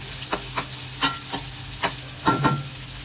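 Ginger sizzles in a hot pan for a shelled-seafood coconut dish, broken by several sharp stirring scrapes at uneven intervals, close and fairly loud.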